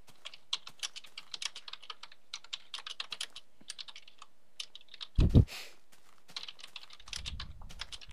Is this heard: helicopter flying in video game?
no